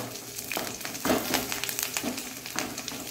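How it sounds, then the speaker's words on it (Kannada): Mustard seeds splutter in hot oil in a pan, giving steady sizzling with repeated irregular pops and crackles close by, with no talk. "ಸಾಸಿವೆ ಉರಿಲಿ"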